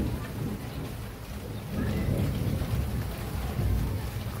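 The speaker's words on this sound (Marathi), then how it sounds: "खूपच असं जोराचा पाऊस आता चालू झालेला आहे" Heavy monsoon rain pours steadily with low thunder rumbling underneath, a dense continuous roar that swells louder midway and holds with no voices.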